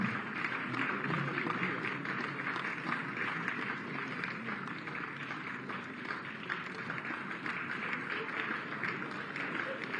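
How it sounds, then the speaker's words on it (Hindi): Sustained applause from a crowd welcoming children at a ground-breaking ceremony for a school building in Lucknow, a steady dense wash of clapping that holds evenly for the whole stretch. "कृपया तालियों से स्वागत करते रहिए"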